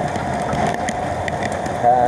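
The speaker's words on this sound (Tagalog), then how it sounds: "bigla pong lumakas pong ulan" Sudden heavy rain pours steadily onto a surface close by, a dense continuous patter with a few louder drops.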